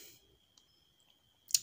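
A single computer mouse click, sharp and close, sounds near the end of a quiet stretch, preceded by a couple of faint ticks.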